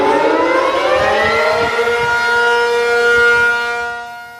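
A civil defense air raid siren wails during an air defense drill in Tainan, holding a loud, sustained rising tone that slowly fades toward the end.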